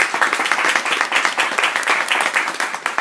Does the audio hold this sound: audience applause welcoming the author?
yes